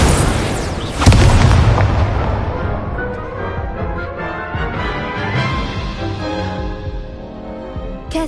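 A Confringo explosion spell bursts in Hogwarts Legacy with a loud, close boom. A long, rumbling roar follows and slowly fades over several seconds.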